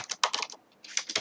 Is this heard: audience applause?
no